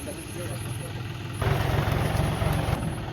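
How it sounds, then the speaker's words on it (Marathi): A tractor engine idles at a poultry farm at night, a steady low rumble that grows louder and fuller partway through, with voices talking over it. "आला ट्रॅक्टर"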